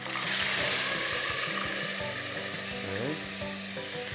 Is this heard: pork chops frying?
yes